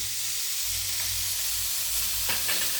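A spoonful of ghee sizzles in a pan for neem sukto, a Bengali vegetarian dish, giving a steady close hiss with a couple of soft utensil taps near the end.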